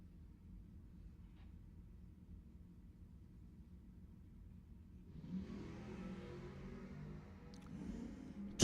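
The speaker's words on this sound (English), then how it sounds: "Next pair, Mason Dixon's Anthony Bonanno in the red Chevelle up against New England's Don LoRusso." Drag racing cars, including a red Chevelle, launching down the strip; a quiet low engine idle gives way to a louder rising roar of acceleration at a distance.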